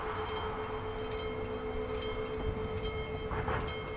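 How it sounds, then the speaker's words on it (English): A train arriving at a station near Venice, a continuous low rumble with steady tonal hum and a rising squeal toward the end, no talk over it. "So I guess this means our train is going to arrive soon."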